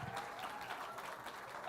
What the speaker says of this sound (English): Please give a round of applause for Professor Mike Hardy and also Dr. Rudy.